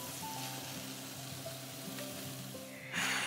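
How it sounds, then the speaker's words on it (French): A small egg tortilla browns in a frying pan, giving a steady, close sizzle and crackle with faint tonal hum beneath and a sharper burst of sizzling at the very end. "avec ça, je me fais dorer à la poêle une petite tortillasse"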